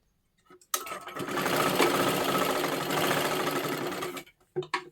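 Sewing machine running steadily for about three and a half seconds while stitching tucks into silky fabric with a lining, a continuous close mechanical whir that starts and stops abruptly with a few short bursts after.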